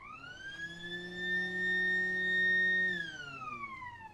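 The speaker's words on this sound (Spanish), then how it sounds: "Un rápido toque de sirena." A short siren blast sounds at a weapons test range before a projectile firing, a rising tonal wail that holds loudly for a second or two and then drops away, alone without talk.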